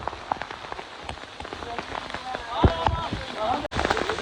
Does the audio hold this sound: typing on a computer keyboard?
no